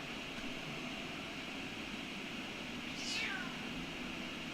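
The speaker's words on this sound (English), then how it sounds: "My cat just going off over there." A pet cat lets out a single drawn-out meow from a little distance, faint and falling in pitch, over a steady background hum indoors.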